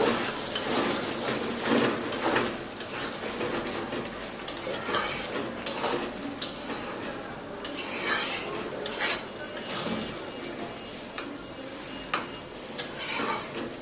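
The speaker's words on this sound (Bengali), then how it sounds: "তুলে নেওয়ার পর এখন আমি আলুটাকে নেড়ে চেড়ে দেবো ভালোভাবে" Potatoes for an egg and potato curry stirred in a pot after the lid comes off, with irregular scraping and clinking of a spoon against metal over a faint sizzle.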